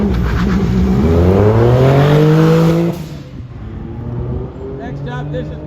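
A rally car with Impreza running gear launches hard at a motorsport festival, its engine revving high and climbing through the gears, loud and close for about three seconds before dropping to a fainter drone as it pulls away under a commentator's voice.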